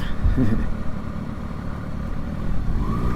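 Motorcycle engine droning while riding along Route 66 in Amarillo, Texas, a steady close rumble with small swells of throttle as the bike filters through traffic, a voice briefly audible over it.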